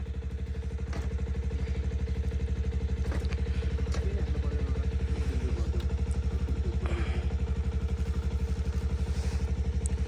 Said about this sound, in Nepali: अब यहाँ बाइकहरू स्टार्ट गर्दैछ